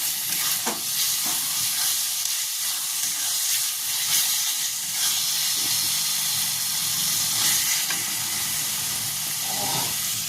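Spices sizzle and fry in a pan while making restaurant-style palak paneer, a steady close hiss with faint stirring scrapes and occasional pops, no talk.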